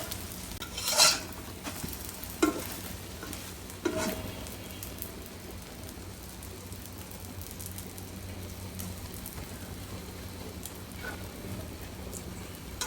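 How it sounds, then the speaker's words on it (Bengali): An egg frying in a pan makes a steady, soft sizzle throughout, with a few sharper clatters of a utensil early on and no talking. "ডিমটা ভাজা হয়ে গেছে, আমি এখন এটা উঠাই নিব।"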